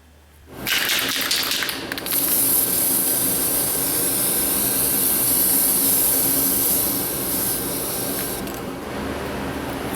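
Aerosol can of brake lube sprayed onto the brake caliper slides of a Dodge Stratus, a loud continuous hiss after a click, lasting several seconds before tapering off, close up with no speech.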